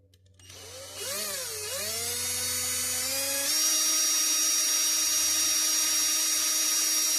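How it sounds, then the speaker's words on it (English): A small power drill works on a rivet in a Dinky Toys Vauxhall Cresta no. 164 model car: a high whine that wavers as it spins up, then settles into a steady, loud, close drone. "Right, so we're just gonna drill this in a bit more."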